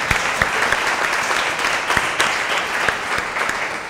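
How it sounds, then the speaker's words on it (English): Sustained audience applause at a corporate team event panel, dense even clapping with a few sharper individual claps standing out, steady and fairly loud throughout. "Everybody give Coach a round of applause"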